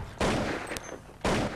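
Bursts of rapid gunfire in a competitive video game match, two loud sustained volleys of automatic shots separated by a short gap, close and sharp.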